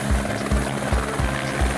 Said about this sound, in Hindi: ये है बच्चों हेलीकॉप्टर, इसे इंग्लिश में हेलीकॉप्टर कहते हैं।